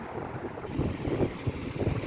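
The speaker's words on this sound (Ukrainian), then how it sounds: "На морі хвилі. Море сьогодні неспокійне" Rough Black Sea waves roll onto Odesa beach in choppy, uneven surges, while strong wind buffets the microphone with a steady, gusty roar.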